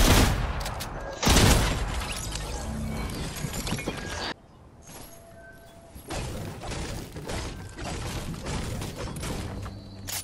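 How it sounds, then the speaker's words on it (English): Rapid gunfire from the Fortnite video game, dense bursts of shots with a loud blast early on, then continued crackling fire and thuds at a steady level. "Them shooting me."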